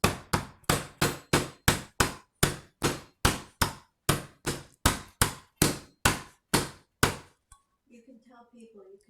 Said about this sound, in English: We'll first begin by flattening out our cube steaks into 1/4 inch